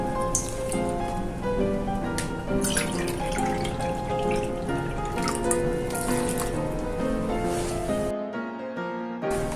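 Water poured into a bowl of focaccia ingredients, with olive oil already added, a steady splashing trickle that runs continuously and close before stopping abruptly near the end, with no speech.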